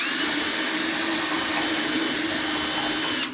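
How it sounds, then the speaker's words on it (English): A power drill whines at a steady high pitch, drilling out old door hinge bushings on a 1965 Dodge Coronet 500, running continuously and close up before cutting off at the end. "We're drilling out the old bushings, is what we're doing."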